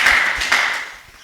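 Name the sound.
congregation applause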